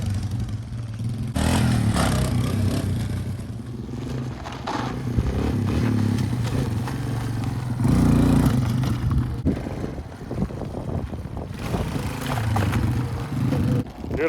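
A Honda Fat Cat off-road motorbike is ridden outdoors, its small engine droning and revving up and down. Rattles and scrapes from the terrain run along with it the whole time.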